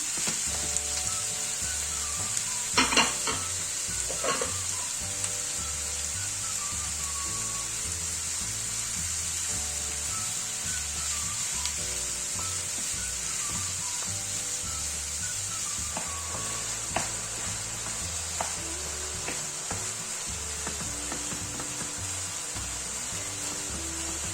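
Food sizzling and frying in a pan for a Gaziantep-style kabak oturtması, a steady hiss throughout with occasional scrapes and knocks of stirring, heard close and alone.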